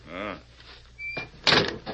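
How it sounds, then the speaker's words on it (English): A door opens in a radio drama, a short creak and latch clatter following a brief spoken line, close and fairly loud. "The door isn't locked. We'll go in and wait for him."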